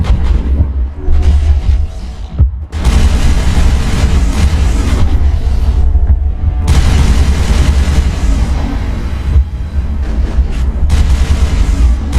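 Heavy turret fire and explosions in the sci-fi video game Mass Effect, on the Virmire mission: loud, dense booming blasts that roll almost continuously, with brief dips between bursts.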